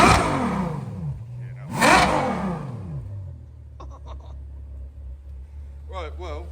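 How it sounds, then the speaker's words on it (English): A Ferrari GTC4 Lusso V12 revs hard twice at close range, climbing and falling sharply before settling into a steady low idle rumble, with brief voices near the end. "Now the owner's gonna let us hear what a true Italian V12 sounds like."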